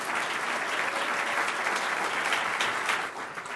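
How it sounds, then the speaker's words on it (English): Warm, sustained applause fills the room as an audience welcomes Brooklyn Borough President Eric Adams to the stage, a thick wash of clapping that tapers slightly at the end. "Thank you for your gracious applause"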